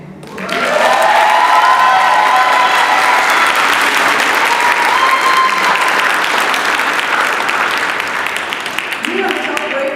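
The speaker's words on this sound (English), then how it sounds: "cheer as loud as you can for these graduates because they deserve it" A large crowd applauds and cheers for graduates at a Job Corps graduation ceremony, a steady loud wash of clapping that holds for nearly the whole stretch and fades slightly near the end.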